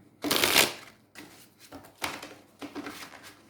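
Tarot cards being shuffled by hand: a loud riffling burst up front, followed by several softer, shorter shuffles close by.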